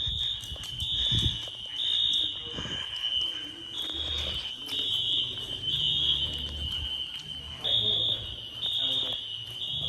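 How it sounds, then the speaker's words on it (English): Fire alarm horn strobe in an apartment building blaring during a scheduled test, a loud steady high-pitched tone pulsing in repeated bursts, with people talking underneath. "The fire alarms are going off."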